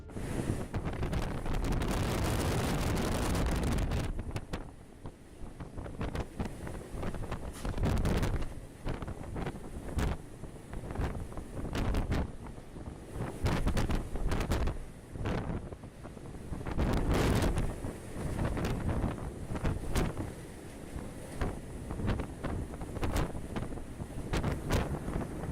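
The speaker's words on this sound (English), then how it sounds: "winds were traveling at 89 miles per hour" Strong gusting wind roars at sea beside a ship in monster waves, with winds near 89 miles per hour; loud, continuous buffeting rushes and thumps against the microphone, with surging water beneath, no voices.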